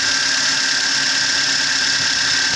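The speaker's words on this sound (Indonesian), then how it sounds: "ini extra fan sudah nyala, berarti mesin sudah bekerja pada standar suhu kinerja mesin ya." Toyota Avanza engine idling with its extra cooling fan switched on, a steady mid-pitched engine hum under a constant high whooshing fan drone, loud and close, with no speech.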